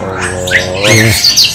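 A Bali myna chick squawks loudly and close up, giving one harsh, drawn-out call that rises and breaks into rougher squawks.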